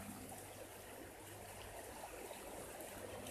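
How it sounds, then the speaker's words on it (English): A brook flows in a state park with a soft, steady trickle and gurgle, faint and continuous with no voices. "And look at this beautiful brook."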